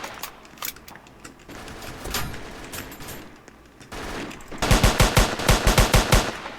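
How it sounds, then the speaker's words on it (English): Rapid gunfire rings out in a police roleplay video game, first scattered shots and then a dense, rhythmic burst of loud, close reports near the end. "Okay, shots fired. We have shots fired."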